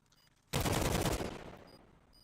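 A burst of rapid automatic rifle fire in Counter-Strike erupts suddenly after a quiet moment, loud and dense for under a second, then trails off into a decaying echo.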